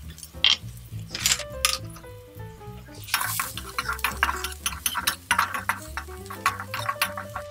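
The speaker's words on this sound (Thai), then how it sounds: "ใส่กระเทียมกับพริกที่สับไว้ลงไปผัดให้หอมเลยค่ะ" Garlic and chopped chili stir-fried in hot oil in a wok, a busy run of scraping spatula clicks and light sizzle. The taps and scrapes are close and fairly loud, and there is no talking.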